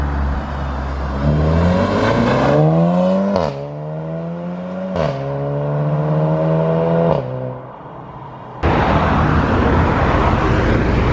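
A Caterham sports car's engine revs hard several times up close, each blip climbing sharply in pitch and then dropping back, before a loud, steady broadband roar takes over at the end.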